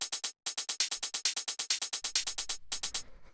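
A techno hi-hat plays steady 16th notes, a dense train of bright, sharp ticks; partway through, a low rumble and a hissier cymbal layer join underneath.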